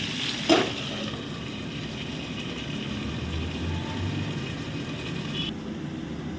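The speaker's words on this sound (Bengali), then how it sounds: "আমি কিছুক্ষণ একটু ভালো নরম করে ভেজে নেব, যাতে সবজিটা একটু সেদ্ধ হয়ে যায়" Vegetables frying under a lid in a pan for a Bengali shukto dish: a steady, even sizzle throughout, opened by one brief clink, with no speech.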